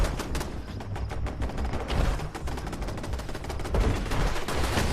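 Automated turrets firing in Fallout 76: dense, continuous rapid gunfire with overlapping sharp cracks and heavy low thuds, steady and loud throughout with no break.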